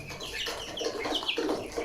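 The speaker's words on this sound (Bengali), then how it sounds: "এই যে এগুলো আমাদের বিভিন্ন ক্লাস ফার্মি মুরগির" Hens on a poultry farm cluck and murmur continuously, with several overlapping calls close by and no talking.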